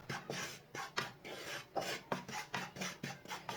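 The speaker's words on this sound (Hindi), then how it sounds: "2-3 मिनट के लिए इसे भून लेंगे। इसे मीडियम आंच पर भूनना" Wheat flour roasted in a pan for coconut barfi, a spatula scraping and rasping against the pan in steady repeated strokes about twice a second, close and clear with no talk.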